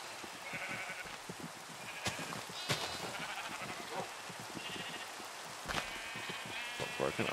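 Sheep bleat repeatedly in the Minecraft video game, several short cries over busy game noise and footsteps while someone talks over them.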